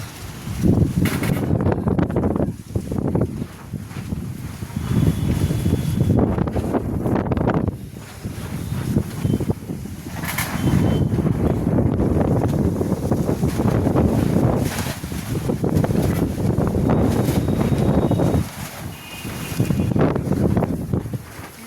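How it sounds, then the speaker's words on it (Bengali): Strong storm wind blowing across an open pandal, loud roaring gusts buffeting the microphone in long surges with brief lulls between them. "কি পরিমাণের হাওয়া।"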